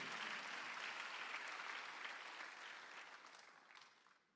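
A church congregation claps during a Sunday afternoon worship service, a broad steady wash of hands that gradually fades out toward the end, quiet overall.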